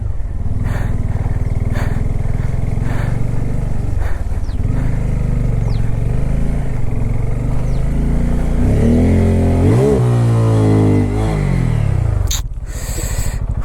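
A Bajaj Pulsar N250 motorcycle churns through thick mud off road, its engine loud and close, revving continuously with rising and falling pitch before cutting out abruptly near the end.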